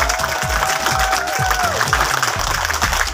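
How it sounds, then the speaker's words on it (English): A round of applause for Miss Rosie Chai at a property grand launching in Naic, a crowd clapping steadily and fairly close, with a music track and a few cheers underneath. "Let's give a round of applause for Miss Rosie Chai!"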